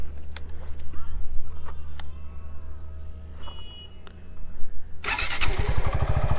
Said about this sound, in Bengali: এই যে স্টার্ট করলাম বাইক